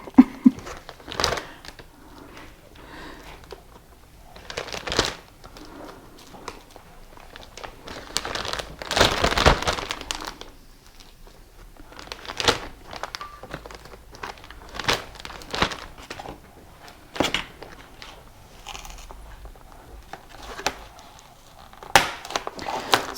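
Tough plastic packaging is pried open in a kitchen, producing intermittent close crinkles, crackles and sharp rustling bursts separated by quieter pauses.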